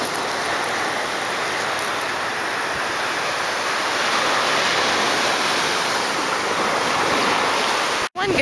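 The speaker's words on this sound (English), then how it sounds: "The big waves." Big, rough ocean waves break on a misty beach in a steady, loud roaring wash that fills the whole stretch without letup.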